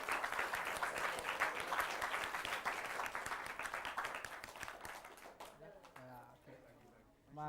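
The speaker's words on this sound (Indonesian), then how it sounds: "Tepuk tangan dong, tepuk tangan." A student orientation audience claps in a dense, lively burst of applause that slowly thins and fades, after which a voice speaks over the tail end.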